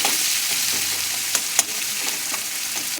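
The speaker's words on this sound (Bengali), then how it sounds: "পেঁয়াজটা আমি বাদামি রঙের ভেজে নেব।" Chopped onion frying in a pan after shrimp, a steady close sizzle with a few sharp crackles and spatters, no voices.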